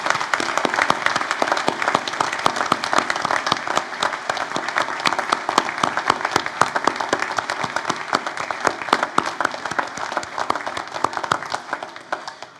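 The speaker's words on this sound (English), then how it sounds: "I wonder if you'd join me in applauding the wonderful achievements of these graduates" Audience at a university graduation ceremony in Port Macquarie, Australia, applauding the graduates with steady, dense clapping that holds for over ten seconds before tapering off.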